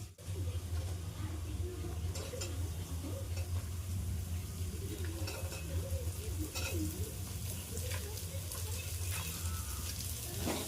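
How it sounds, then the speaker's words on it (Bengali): Onions fry in a pan in a village kitchen, a steady close sizzle running the whole time over a low hum, while people talk nearby. "প্রথমে কি হচ্ছে এটা? পেঁয়াজ ভাজা হচ্ছে।"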